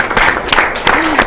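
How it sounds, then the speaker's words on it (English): A business audience at the Vancouver Board of Trade applauds to welcome Industry Minister Mélanie Joly, with a dense patter of clapping and sharp individual claps close by and a voice briefly audible over it. "I think it's worth a round of applause,"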